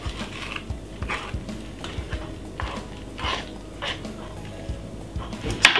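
Whisk beating sponge cake batter in a bowl, quick irregular scraping and clinking strokes against the bowl, close and moderately loud, with a sharper clink at the end.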